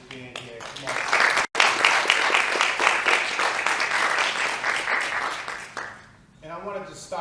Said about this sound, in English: I just want to give them a warm round of applause for just being here.